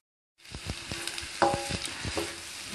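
Vegetables for Hakka noodles fry in a pan with a gentle sizzle, broken by several soft knocks and clinks of stirring, close and moderately quiet, with no voices.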